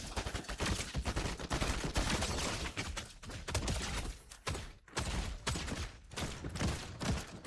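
Rapid bursts of gunfire ring out in Fortnite, with dense, loud overlapping shots and cracks following one another almost without pause.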